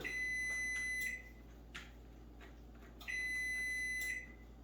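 An oven set to bake at 350 degrees for pumpkin pie beeps once it reaches temperature: two long, steady, high-pitched tones about two seconds apart over a low background hum.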